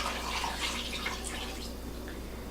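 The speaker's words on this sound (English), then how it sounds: "we're going to add our 3 cups of water" Three cups of water poured into a pot of chicken with juices and spices cooking on medium-low heat, a steady splashing, trickling stream, fairly faint and continuous throughout.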